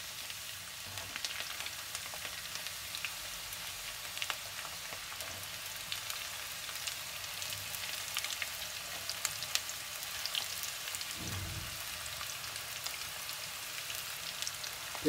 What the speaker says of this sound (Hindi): प्याज डालने के बाद इसे थोड़ा भून लेंगे।